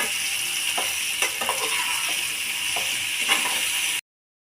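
Salted raw banana slices fry in an open pan with a steady, bright sizzle, broken by a few light clinks and stirring taps, before the sound cuts to silence.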